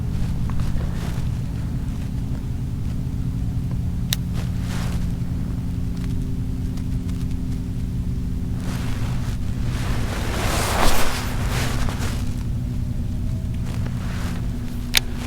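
Wind blows outdoors on a fishing outing, a steady rumbling buffet across the microphone with a few stronger gusts along the way.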